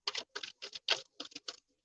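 Seven quick bursts of crisp, papery riffling in an uneven rhythm as a deck of tarot cards is shuffled close by, with short pauses between them.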